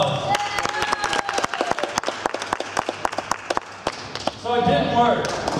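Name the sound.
audience applause for the priest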